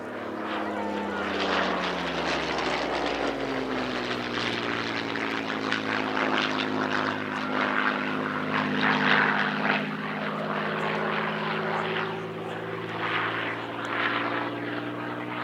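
Avro Lancaster bomber propeller engines droning steadily at the Cosford air show, a loud sustained multi-engine hum with shifting tones as the aircraft passes, continuous throughout.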